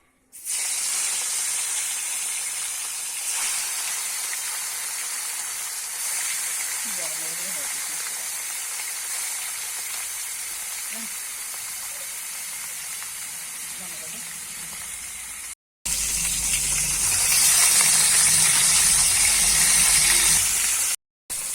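Kalbaush fish pieces rubbed with salt and turmeric frying in hot oil in a karahi, giving a steady loud sizzle and hiss that runs throughout, louder after a brief break, with faint sounds of kitchen handling.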